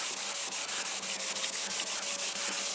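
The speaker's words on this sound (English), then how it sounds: "We're going to put some methylated spirits on," A clean rag soaked in methylated spirits rubbed back and forth against a painted wall, giving a steady, close scrubbing swish with regular strokes and no talking.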